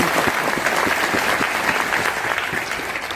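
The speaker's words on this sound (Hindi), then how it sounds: "तो एक बार मैं चाहूंगा उनके लिए जोरदार तालियां।" Audience at a business event applauding, a dense and steady wash of many hands clapping at once, fairly loud and continuous throughout.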